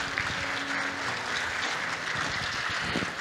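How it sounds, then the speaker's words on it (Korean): A large audience applauds at the KAIST 50th anniversary ceremony in a hall, a dense, sustained wash of clapping that holds steady and loud from start to finish with no talking over it. "17분의 교수님, 이영래, 봉원기 선생님께도 여러분 다시 한번 뜨거운 박수 부탁드리겠습니다."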